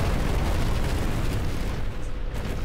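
A continuous heavy explosion rumble in the physics-based destruction game Instruments of Destruction, thick low roar with crackling debris holding steady for nearly three seconds before thinning slightly at the end, with no talking.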